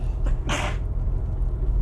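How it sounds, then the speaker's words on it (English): A single sharp human sneeze bursts out briefly near the mic over a steady low hum of room noise. "Yeah, I'm sneezing again."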